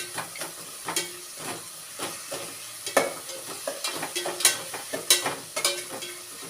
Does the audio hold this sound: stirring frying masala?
yes